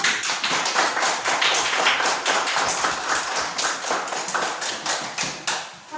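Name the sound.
class clapping hands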